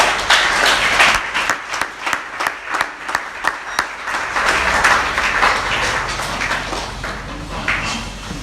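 A church congregation bursts into applause, dense clapping that thins into separate sharp claps midway before swelling again, with a low rumble beneath and no one speaking.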